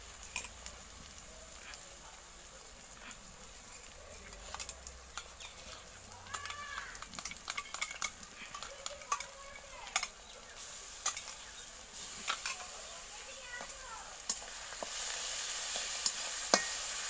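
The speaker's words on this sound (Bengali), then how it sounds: "পেঁয়াজটা ভাজা হয়ে গেছে, তো এবার আদা রসুন আর লঙ্কা বাটাটা এর মধ্যে দিয়ে দিচ্ছে।" Ginger, garlic and chili paste frying with onions in a pan gives a steady sizzle, with light scraping and clinking of stirring that grow busier toward the end; no talking.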